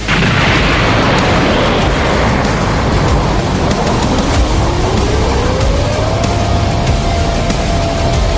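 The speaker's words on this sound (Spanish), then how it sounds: "La explosión que siguió borró 1 kilómetro entero del mapa." A huge explosion effect in a superhero fight, a loud sustained roaring blast with dense rumble that fills the whole stretch, a rising whistling tone sweeping up through the middle, no voices.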